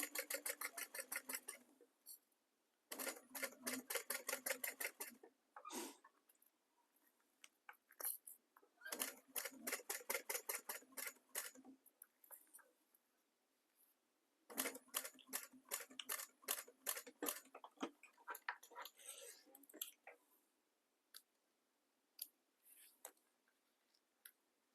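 Home sewing machine set to a long stitch length of about 4.5, stitching a faux rolled handle on a bag, heard as bursts of rapid, even mechanical clicking that start and stop in runs of a few seconds with short pauses between.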